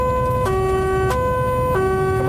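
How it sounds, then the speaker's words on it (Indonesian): An ambulance siren wails loudly from inside the vehicle, cycling steadily between two alternating tones with no pause, with a low road rumble beneath it. "Ini gini pemirsa rasanya naik ambulans."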